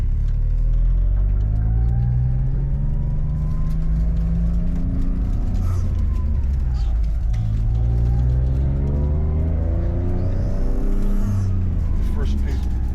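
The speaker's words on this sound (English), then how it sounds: "She just drives away nice as can be." A 1991 Honda Acty Sport G all-wheel-drive kei van pulls away, a loud, close engine rumble whose revs rise and drop through the gears.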